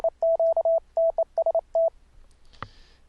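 A single steady Morse code CW keying tone with a solid square-wave timbre sends quick runs of dots and dashes, loud and close, then stops and leaves a brief faint click.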